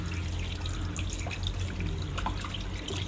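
Tap water running steadily over catfish being washed at a sink, a continuous close splashing trickle with a low hum underneath and no talk.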